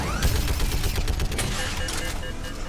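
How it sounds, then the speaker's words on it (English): Rapid gunfire from the Mass Effect 3 shooter game, a dense, continuous fusillade of overlapping shots and crackling impacts, loud and close throughout the short burst. "Deja de dispararle a Dani, maldito."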